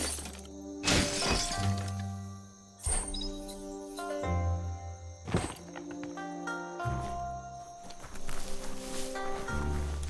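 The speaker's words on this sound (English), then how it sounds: "You shouldn't worry about smashing up the box." A box smashed in the video game Biomutant breaks with repeated sharp wooden cracks and shattering crashes in quick bursts, set against a sustained musical game score, with no talking.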